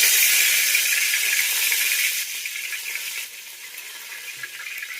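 Curry leaves hit hot oil and give off a loud, continuous hissing sizzle close by that eases slightly as it goes on, with no voices.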